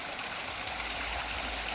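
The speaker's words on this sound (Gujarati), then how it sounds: "ત્યાં એક આ ઝરણું વહી રહ્યું છે" A small waterfall stream at Ratanmahal flows with a soft, even rushing hiss, faint and distant, steady throughout with no voices.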